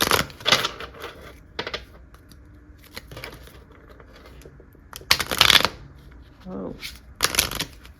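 Love oracle cards shuffled close up in quick riffling bursts separated by pauses, with a brief spoken exclamation from a person in between.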